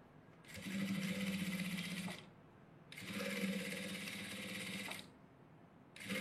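A sewing machine stitches the edge of a blouse piece in a tailoring class, running in two long steady bursts with a short pause between and a third starting at the end, close and loud with no talk.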